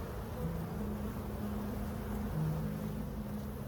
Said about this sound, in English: So I have a bee stuck in my hair currently. She's making a lot of noise